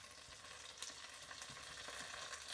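Defrosted potatoes fry in a pan, a soft steady sizzle with faint scraping and occasional light clicks, quiet and close, no speech.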